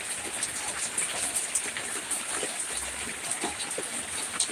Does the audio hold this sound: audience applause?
no